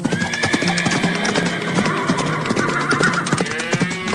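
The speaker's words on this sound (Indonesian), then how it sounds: "Oh tidak, kuda-kudanya malah berlarian kencang" Animated horses neigh and whinny while galloping hooves clip-clop across a farm field, several loud calls overlapping a steady rhythmic drumming of hooves.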